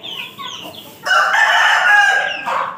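A white rooster, blind in one eye, crows loudly and close by, one long strained call rising over some background clucking and chatter of fowl.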